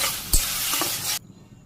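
Taro leaves sizzling in a hot pan as garlic greens are added and stirred in a Bangladeshi village kitchen, a close, steady frying hiss with a stirring knock that cuts off abruptly near the end.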